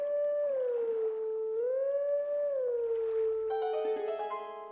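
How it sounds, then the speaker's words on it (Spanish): A wolf in Zelda: Twilight Princess howls a slow, sliding melody, one long wavering note rising and falling, before bright game music chimes in near the end. "quizás te puedas sentar allá y aullar la misma melodía"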